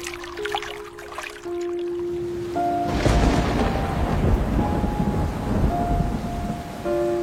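Heavy rain pours steadily at night while thunder rumbles and cracks loudly, swelling midway and continuing to roll, with no voices present.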